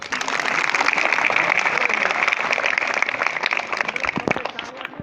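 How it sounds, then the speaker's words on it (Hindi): Applause from a crowd at a religious gathering, with dense sustained clapping throughout that thins toward the end, loud and close. "महाराज जी ताली बजवाओ"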